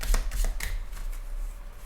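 Tarot cards are laid down onto a pile on a table, making a few soft papery slaps and flicks in the first half second before fading to quiet, close and faint.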